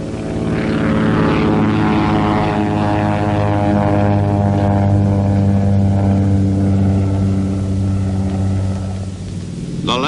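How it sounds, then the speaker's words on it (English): Propeller planes returning to an aircraft carrier flight deck make a loud, sustained droning engine roar with strong tonal harmonics. The sound stays steady and close, then eases slightly near the end. "Taking the planes back aboard was an even more exacting operation than the launching."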